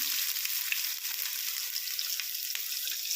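Chopped onions fry in hot oil with a tempering of spices, giving a steady, dense sizzle that runs without a break and with no talking over it.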